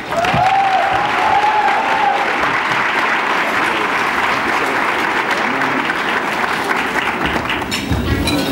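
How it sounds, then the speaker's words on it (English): An audience at a public event claps steadily in a long round of applause that stays loud and even throughout, with a brief whoop near the start. "Please give a warm round of applause to Laz Alonso."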